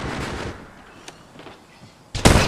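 Gunfire in the Apex Legends Mobile video game: a few faint shots early on, then a loud close burst of rapid shots at the end over game ambience.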